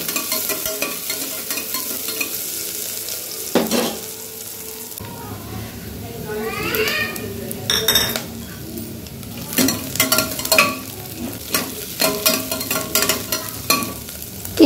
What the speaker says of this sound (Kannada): ಈರುಳ್ಳಿ ಹಾಕ್ಕೊಂಡು ಅವು ಸ್ವಲ್ಪ ಕಲರ್ ಚೇಂಜ್ ಆಗೋ ತನಕ ಫ್ರೈ ಮಾಡ್ಕೋಬೇಕು